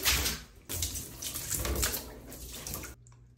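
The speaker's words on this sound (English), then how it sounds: "Take an empty container and fill it with water." Water runs from a tap into an empty container while a bathroom is being cleaned, a steady close splashing gush that pauses briefly and then resumes before stopping abruptly near the end.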